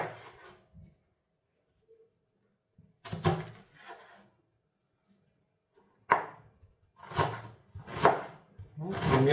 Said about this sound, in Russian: А лук, друзья, нарезаем